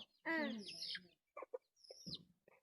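A chicken gives a drawn-out squawk, then a few short clucks follow in scattered bursts, close by and fairly faint.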